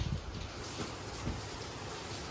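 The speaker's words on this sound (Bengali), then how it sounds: "জলের আওয়াজে বোঝা যাচ্ছে যে ভালো বৃষ্টি হচ্ছে" Steady broadband wash of heavy rain pouring down outside, with a few low rumbles underneath and no voices.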